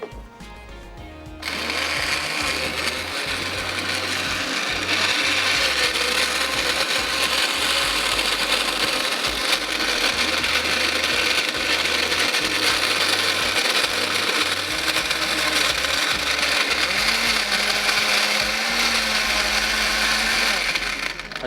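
A blender mixes a banana and cinnamon drink, starting up after a short pause and running loud and steady for about twenty seconds without a break.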